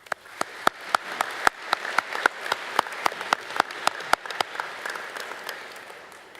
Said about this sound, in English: A round of applause for those folks.